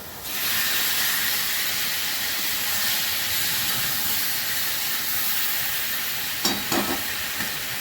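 Cashew paste sautéing in a pan for a Bengali rice and pointed gourd dish: a loud, steady hissing sizzle starts abruptly and holds, with a few scraping stirs near the end.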